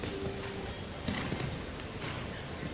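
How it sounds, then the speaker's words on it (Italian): Horse hooves striking the arena surface during a show jumping competition at CSI Verona, with steady clip-clop footfalls under a continuous crowd and arena background. "cavallo che sta saltando bene"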